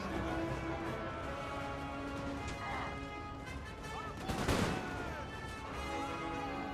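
Musket volleys crackle across a Napoleonic battlefield in Napoleon Total War. Scattered shots build to a loud, dense crash about two-thirds through over a steady din of battle, with a voice talking over it.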